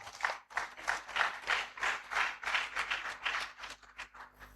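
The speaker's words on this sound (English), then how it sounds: "Let's welcome them with a round of applause" Audience applause at an academic conference in honour of a professor, a moderate round of clapping from a seated crowd with uneven pulses that taper off over several seconds.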